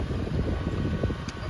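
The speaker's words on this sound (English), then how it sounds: "it's a little bit windy today" Outdoor wind gusting across the microphone beside a hard-sided popup camper trailer, a constant low buffeting rumble with no voices.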